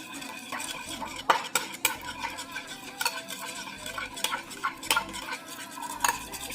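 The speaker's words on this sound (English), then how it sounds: "Stir that up." A dressing with olive oil being stirred with a butter knife: steady rapid scraping and clinking of metal against a bowl, close and continuous, with sharper ticks throughout and no voices.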